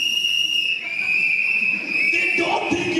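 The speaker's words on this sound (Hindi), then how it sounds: "एक इंसान बजा रहा है सीटी" At a crowded product launch event, an audience member gives a long, sustained high whistle that runs through the whole moment under murmuring crowd noise, with a burst of chatter near the end.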